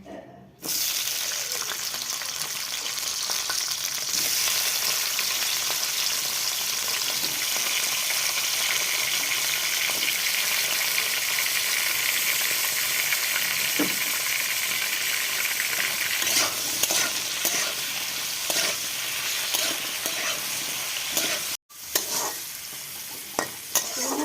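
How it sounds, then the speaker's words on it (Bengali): Steady loud sizzling of cut vegetables frying in hot oil in a pan, continuous with occasional stirring scrapes and a brief break near the end. "কেটে ধুয়ে রাখা সবজিগুলো আমি ভেজে নেব।"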